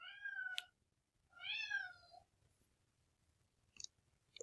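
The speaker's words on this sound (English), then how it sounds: "My cat's crying in the background." A pet cat crying indoors: two drawn-out, wavering meows about a second apart, fairly clear but somewhat distant, followed by a few faint clicks against a quiet room.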